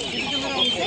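Chickens cluck close by at a poultry market, giving a short burst of busy, overlapping bird calls with voices in the background.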